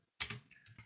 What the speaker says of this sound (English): You can even come in and type on this